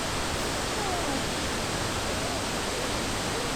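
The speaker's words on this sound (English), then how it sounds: "You see the waterfall?" A waterfall on a hike in Oregon produces a dense, steady hiss of rushing water, constant and fairly near, with no other clear sounds.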